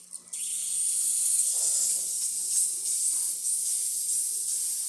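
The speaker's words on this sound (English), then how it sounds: "We're going to quickly test the steam on while we're at it." A steady, loud steam hiss from an Isomac Millenium espresso machine's steam wand starts abruptly and continues without a break, a broad high-pitched rush with a faint low hum beneath.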